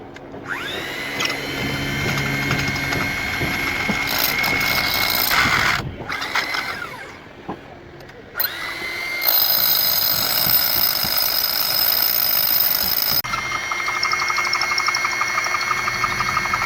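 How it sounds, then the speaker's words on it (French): A power drill boring holes for a Hilti RE 500 anchor installation, a loud sustained whine with throbbing undertone that cuts out briefly and resumes in long steady bursts. "Alors, on démarre directement avec le perçage."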